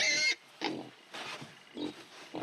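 Pigs on a small homestead grunt and squeal close by in a string of short bursts, one sharp high squeal followed by several lower grunts spaced irregularly over a couple of seconds.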